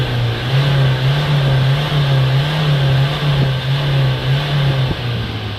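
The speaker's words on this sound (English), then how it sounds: "when we accelerate it now, you're going to see a lot of vapour coming out of the exhaust" A Vauxhall Vivaro van with a clogged diesel particle filter runs with a steady, droning engine note that holds nearly level, heard close and moderately loud with faint clicks and no voices.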